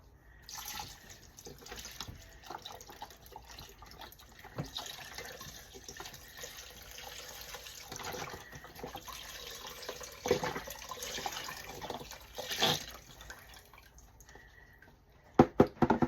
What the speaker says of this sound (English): Now I'm going to add in 2 32-ounce of beef broth.